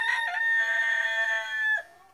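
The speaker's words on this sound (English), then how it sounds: "introduce you to my good friend, Tarni Gold, the rooster on Samuel's mountain, and he's going to prophesy for us." A rooster crows once, a loud, close, sustained cock-a-doodle-doo with a bright tonal call that holds steady and then cuts off abruptly, alone without talk.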